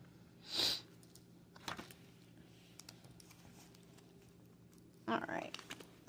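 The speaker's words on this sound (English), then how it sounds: "that's probably why you hear me sniffling" A quick, close sniff rises above quiet room noise, followed later by another burst of sniffling mixed with light tapping and rustling.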